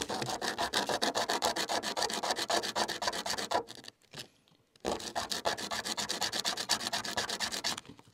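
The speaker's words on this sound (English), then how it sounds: "I think you said this is a 60 or 70 grit sandpaper, Ben?" A honey locust seed is rubbed against 60 or 80 grit sandpaper in quick, even back-and-forth strokes, close and crisp. The scraping pauses briefly partway through, then resumes at the same brisk rhythm.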